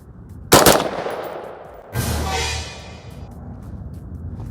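Two loud, sharp reports from a scratch-built gun ring out about a second and a half apart, each followed by a long, bright decaying echo outdoors, with no talking.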